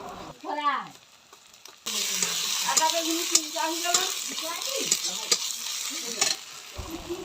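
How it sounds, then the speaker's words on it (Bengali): Chili powder fries in hot oil with the ginger garlic paste for a Malabar spinach, potato and fish curry, a loud close sizzle with spoon stirring, while someone talks briefly before and over it. "এবার দিয়ে দেবো লঙ্কা গুঁড়ো"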